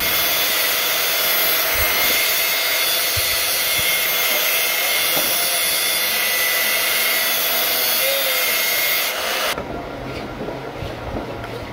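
A woodworking machine runs as a steady, loud, high whine while it shapes and trims the sides of small wooden pieces, then cuts off abruptly near the end, leaving a quieter hum.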